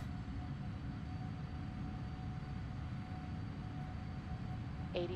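Steady low roar of PMDG 777 jet engines spooled to takeoff thrust in a flight simulator at Doha, a constant broadband rumble with a faint whine above it and a brief click near the end, no voices.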